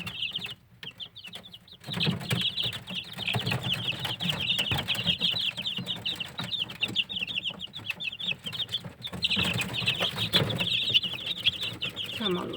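Several Blue Marans hens cluck and chatter continuously close by while a Blue Marans rooster adds louder calls, a busy farmyard chorus with no talking.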